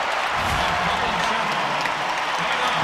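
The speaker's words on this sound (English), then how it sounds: "the crowd loving the effort out of the Kentucky Wildcats that second half" Arena crowd cheering and applauding during a Kentucky Wildcats basketball game against Georgia State, a dense, steady wash of noise with no distinct peaks, loud throughout as if heard from the stands.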